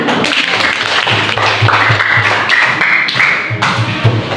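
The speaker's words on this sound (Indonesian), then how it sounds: "Tepuk tangan." A classroom of students claps together briefly, with quick overlapping hand claps and a few thumps from desks or hands at close range.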